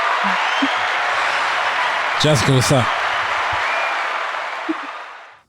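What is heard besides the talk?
round of applause sound effect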